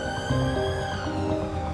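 An ambulance siren wails loud and close, a continuous tonal sweep over rumbling road noise with no voices.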